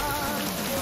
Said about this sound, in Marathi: इथं येऊन पण लय डेंजर पाऊस चालू झालाय